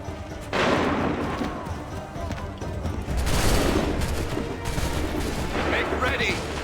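Musket volley gunfire in Assassin's Creed III: loud, rolling bursts of massed shots crackle and boom in overlapping waves, with shouted voices mixed in among the firing.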